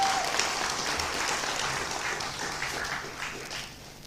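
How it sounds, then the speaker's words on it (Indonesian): Sustained applause from an audience greeting Anies Baswedan at a Nasdem party event, a dense steady clatter of many hands clapping that holds for several seconds before easing off slightly. "kita berikan aplaus"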